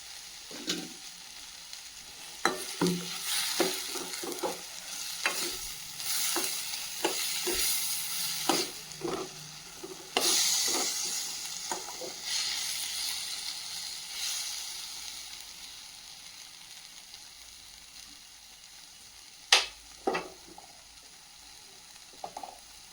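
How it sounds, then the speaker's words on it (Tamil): Onion, tomato and green chilli sautéing for poori masala, a continuous close sizzle broken by sharp clinks and scrapes of stirring, busiest early, then quieter before a few final knocks. "இப்போ வெங்காயம், தக்காளி, பச்சை மிளகாய் எல்லாமே நல்லா வதங்கிடுச்சு."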